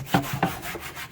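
Table salt is scrubbed into a wooden cutting board in two or three quick, close, gritty rubbing strokes.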